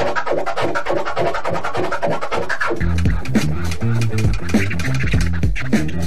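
A DJ cuts a vinyl record with flare scratches on a turntable, producing rapid, choppy bursts that chop each sound into quick stuttering fragments, loud and close, over a driving beat.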